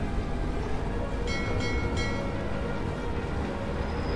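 A number 4 subway train in the Spider-Man 3 video game rumbles steadily as it moves, with a broad continuous roar and a few brief metallic squeals partway through, no talking.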